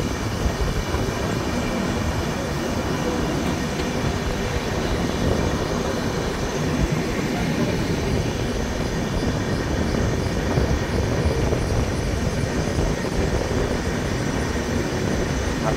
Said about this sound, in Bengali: ট্রেন কত কম গতিতে যাচ্ছে বুঝতেই পারছো কেন?